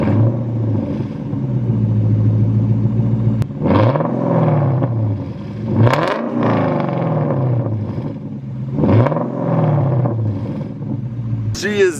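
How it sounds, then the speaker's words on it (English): A Lexus LS luxury sedan starts up and idles with a low rumble, then gives several sharp revs that swell and fall back, heard close and loud. "let's get another start up and maybe a couple revs"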